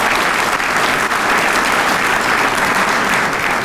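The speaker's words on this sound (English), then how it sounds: "How about a big round of applause for Trey?" Loud, dense applause fills a homecoming luncheon hall for a returning guest, a continuous roar of many hands clapping at once with no break throughout.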